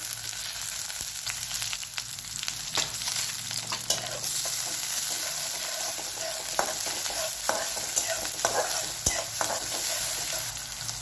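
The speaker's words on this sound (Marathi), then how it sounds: "बारीक चिरलेला कांदा, कांदा चांगला लालसर परतून घ्यायचा आहे, बारीक चिरलेला टोमॅटो" Chopped onion and tomato fry in a pan with cumin and mustard seeds for a spicy potato curry, a steady close sizzle broken by repeated scraping stirs and small clicks of the utensil.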